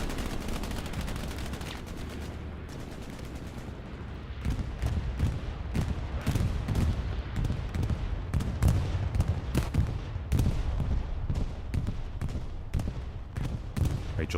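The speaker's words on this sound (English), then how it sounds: "Bombing run's coming over to the right side." Heavy gunfire and explosions from an airstrike bombing run in the World War II shooter Hell Let Loose, a dense rolling barrage of sharp cracks and booms that keeps up loudly for over ten seconds after a quieter lead-in.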